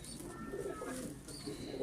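A male Rampuri pigeon coos softly and close by, a low rolling murmur repeating over a short stretch in a quiet rooftop setting.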